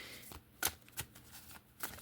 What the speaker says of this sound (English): I've shuffled all of the card decks